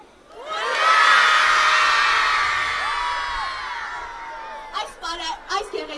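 Children and a crowd at an Independence Day parade shouting a long, sustained hurrah in unison that swells and fades, then a few scattered shouts and claps.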